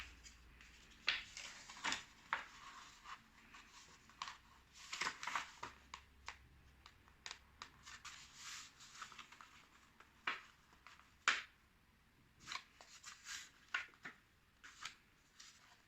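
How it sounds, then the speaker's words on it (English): Origami paper is folded in half along a center line to make a paper heart envelope. Soft crinkles, rustles and crisp creasing taps come in irregular bursts, close and faint, with no voices. "now we'll fold our paper in half on this center line"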